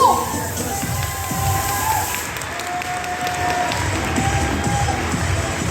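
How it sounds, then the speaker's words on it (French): A crowd at a local sports awards ceremony applauds and cheers steadily for a youth team, with a loud, dense wash of clapping and shouts that carries on throughout. "Vos applaudissements s'il vous plaît pour l'équipe du VVV Pont-à-Mousson."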